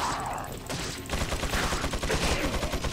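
Sustained bursts of enemy gunfire in Resident Evil 4, rapid rattling volleys that grow louder and denser after a brief lull, with no talk over them.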